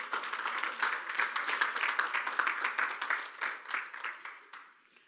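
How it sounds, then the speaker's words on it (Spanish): A church congregation applauding during a Spanish-language service: steady dense clapping from many hands, moderately distant, fading out toward the end. "Vamos, denle un aplauso al Señor."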